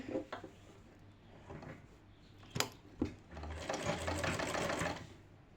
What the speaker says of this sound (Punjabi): ਇਹਦੇ ਉੱਪਰ ਆਪਾਂ ਇੱਥੇ ਕੰਨੀ ਕੰਨੀ ਤੇ ਸਲਾਈ ਲਗਾਵਾਂਗੇ